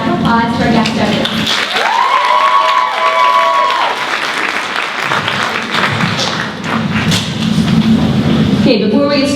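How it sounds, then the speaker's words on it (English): An audience at a school poetry recitation event gives guest judges a round of applause, broad clapping that swells and holds under a speaking voice, with a brief tone sounding midway. "Let's give another round of applause to our guest judges"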